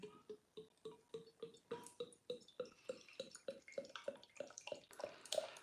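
Franciscana Vice beer glugs out of a bottle in a quick, close run of hollow gulping pops that keep a steady rhythm and grow slightly louder toward the end.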